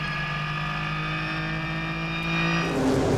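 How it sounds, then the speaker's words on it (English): Renault Sport Trophy race car engines drone loudly and steadily at a race start at Silverstone, with a sustained high engine whine that rises into a rougher burst near the end. "Nicolo Nalio, a winner the previous day, making a very good start."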